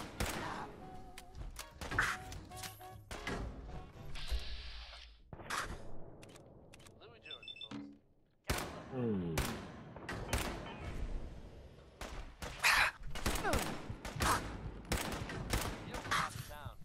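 Bobbi's gunfire during a fight in Fallout 4, a series of sharp shots and thuds scattered across the stretch with brief pauses, plus quieter game sounds between bursts.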